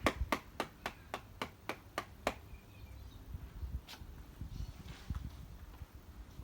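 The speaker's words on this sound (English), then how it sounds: "Give yourselves a clap." Members of a keep fit class give a brief round of applause, about ten sharp, evenly spaced claps, faint and thin in a quiet room, followed by soft shuffling and handling noises.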